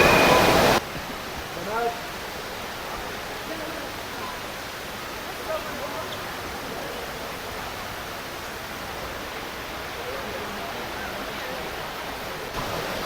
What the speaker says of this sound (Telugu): ఇది దుబాయ్ మాల్లోన వాటర్ ఫాల్ అనమాట.